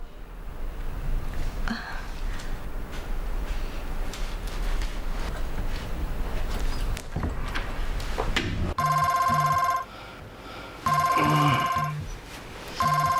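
A telephone rings loudly in repeated bursts, each ring a bright electronic trill with short silent gaps, following a stretch of busy background noise.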